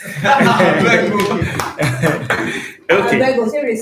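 A film directing class claps for themselves, a short burst of hand claps mixed with chuckles and voices talking over it, close and lively in a classroom.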